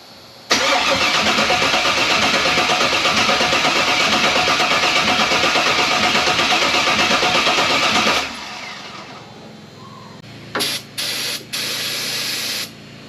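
An old abandoned Jeep Wrangler fitted with an LS engine and running on stale gas cranks loudly and steadily for several seconds, stops, then gives a few short, weaker cranking bursts.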